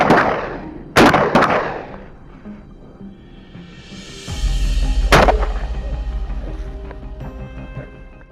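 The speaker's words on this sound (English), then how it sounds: "The hog, too weak to fight back, goes down with Ryan's single decisive shot" A single loud rifle shot rings out during a wild hog hunt, a sharp crack followed by a deep rolling rumble, with other sharp impulsive bangs nearby in the outdoor scene.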